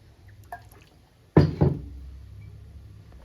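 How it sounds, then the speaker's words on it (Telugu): Cooking oil splashes into a hot kadai on a stove: a sudden short double splatter, then a faint lingering hiss, quiet and close with no speech. "ఇప్పుడు ఆయిల్ వేసేసుకుందాము"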